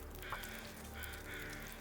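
Crows cawing in the snowy wilderness of the survival game The Long Dark, a few harsh caws from a distance over a steady windy ambient bed, no talking.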